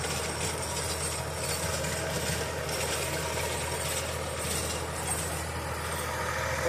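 A steady, droning ACE DI 854 32 hp tractor engine runs continuously at close range, driving a 7-foot rotavator, a low mechanical rumble with a constant churning texture and no pauses.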